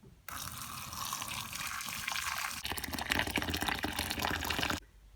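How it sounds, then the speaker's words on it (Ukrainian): Boiling water pours steadily over wood ear mushrooms for several seconds, a rushing liquid gush that stops abruptly, heard close up with no talking. "зараз заливаю їх окропом на 5 хвилин"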